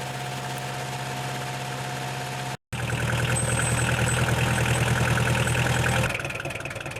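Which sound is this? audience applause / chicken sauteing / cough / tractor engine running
tractor engine running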